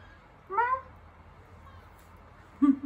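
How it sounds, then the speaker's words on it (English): A pet cat gives two short, clear meows indoors, the first slightly longer, the second a brief chirp near the end, against quiet room tone. "My kitty says hi"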